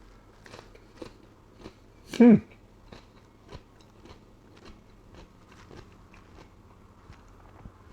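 A few sharp crunchy bites into a burger pickle and chewing sounds, close up, with one louder burst of crunch partway through amid quieter mouth noises.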